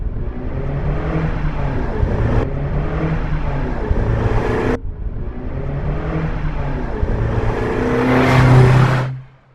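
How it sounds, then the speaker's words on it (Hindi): A car engine approaching and revving in a few loud surging passes, the drone rising near the end before cutting off abruptly; no talking over it. "सर, एक गाड़ी और आ रही है।"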